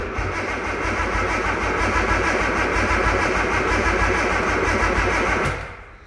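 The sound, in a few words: Nissan Skyline R33 engine cranking on starter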